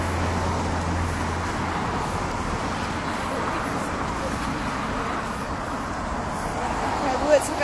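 Road traffic rumbles past on a street in Carlisle, Cumbria at night, a continuous broadband wash of passing cars with people talking over it.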